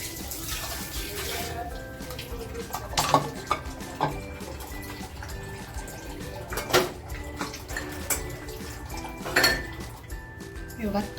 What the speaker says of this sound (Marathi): आपल्याला ते पाणी टाकून घ्यायचं आहे आणि छान असं मिक्स करून घ्यायचं आहे